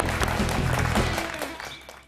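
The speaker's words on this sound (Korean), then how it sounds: "자, 박수 부탁드립니다" Applause from a studio audience on a Korean quiz show, a short burst of clapping that fades over about two seconds.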